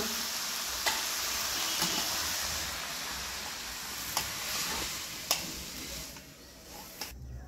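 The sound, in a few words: vegetables and bay leaves frying in hot oil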